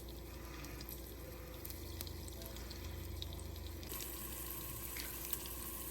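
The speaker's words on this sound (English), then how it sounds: "That's the best sound you can hear, the sizzling of spices." Whole spices and garam masala crackle in hot oil as a tadka is poured over a bowl of red lentil masoor dal, a steady close hiss with no voices.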